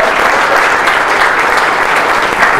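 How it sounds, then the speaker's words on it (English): Steady, dense applause from an audience at an awards ceremony fills the room without pause, loud and even throughout, with no voices over it. "if you can just sort of give them a round of applause,"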